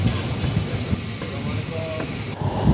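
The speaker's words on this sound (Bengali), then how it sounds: "তো আমাদের ট্রেন এখন পদ্মা সেতু উপরের দিকে যাইতেছে।" A passenger train climbing onto the Padma Bridge, its wheels clattering and rumbling steadily on the rails with faint squeals, heard from on board.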